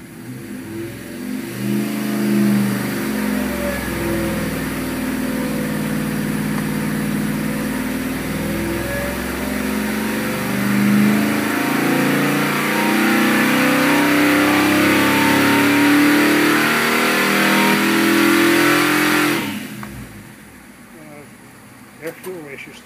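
A fuel-injected 455 big block Oldsmobile V8 on a dynamometer holds a loud, sustained high-rpm roar near 5,000 rpm for about nineteen seconds, then drops off sharply to a quiet tail.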